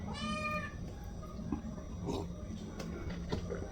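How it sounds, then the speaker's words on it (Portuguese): A young cat meows at the door of a room, wanting out. One clear, drawn-out meow opens over a low background hum, followed by fainter rustles and small sounds. "a gatinha da minha sobrinha tá querendo sair do quarto."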